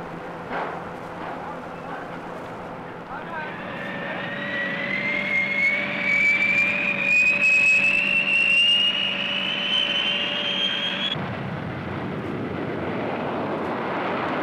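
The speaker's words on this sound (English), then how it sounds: "Also part of this massive strike force is the B-58." A B-58 bomber jet flying, its engine roar building from a low rumble into a loud rising whine that peaks and then cuts off abruptly near the end, leaving quieter background noise.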